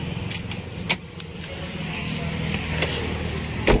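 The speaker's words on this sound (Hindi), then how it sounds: "तो गाड़ी ऑन करके भी दिखा देता हूँ मैं" A used white car with about 70,000 km on it, in good condition, is started at a second-hand car lot, with keys jangling and clicks over a steady close engine hum.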